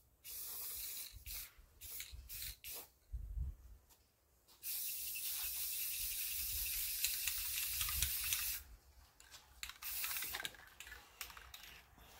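Spray paint hisses onto truck engine parts in repeated bursts, a second coat going on during an engine swap for a 1994 Chevrolet OBS pickup, with short pauses between long steady sprays.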